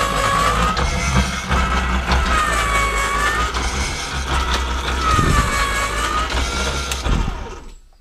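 A homemade PCP air pump runs continuously with a steady motorized drone and a rising and falling whine, loud and close, with a faint knock partway through before it stops at the end; no one speaks.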